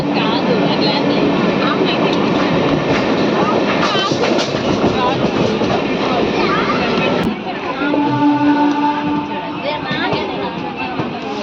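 The Visakhapatnam–Vijayawada Ratnachal Superfast Express runs near Rajahmundry, recorded from on board. It makes a loud, continuous rumble with rhythmic wheel clatter that shifts in tone partway through.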